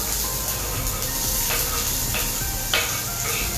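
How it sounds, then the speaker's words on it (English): Chopped onions hit hot oil in a pan and fry with a loud, continuous sizzle and crackle, with a few sharper spits and stirring clicks over the steady hiss. "My oil is almost heated. I'll proceed to add in some chopped onions."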